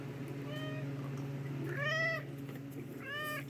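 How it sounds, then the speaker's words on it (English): A pet cat meows three times, close and clear, each call rising and falling, with short pauses between them over a quiet room hum. "my cat keeps messing up the recording"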